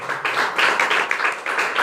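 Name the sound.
church congregation clapping hands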